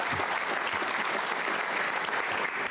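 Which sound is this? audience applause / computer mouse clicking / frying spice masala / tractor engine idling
audience applause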